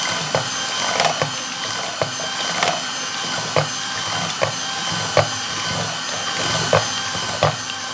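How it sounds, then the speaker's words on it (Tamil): Eggs being beaten by hand for a low-cost butter cake batter, a steady scratchy whisking with faint irregular clicks of the utensil against the bowl, continuous and fairly close, with no voices. "நான் இப்போ ஒரு 3-4 நிமிஷமாக நான் வந்து இந்த முட்டையை அடிச்சுட்டுருக்கிறேன்"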